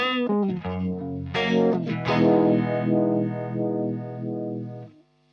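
Electric guitar played through distortion and chorus effects. Sustained, swirling chords ring out loud and close, with a pulsing, wavering modulation. Notes and chord hits shift through the first two seconds, then one long chord holds and fades away.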